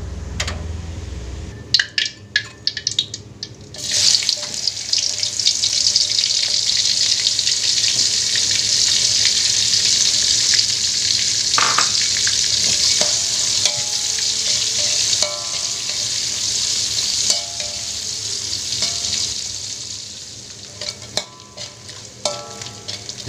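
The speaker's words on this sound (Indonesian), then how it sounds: "Kita goreng dulu terinya ya." Small anchovies (teri) frying in hot oil in a home kitchen, a loud continuous sizzle and crackle close by with occasional clicks of stirring, lasting throughout.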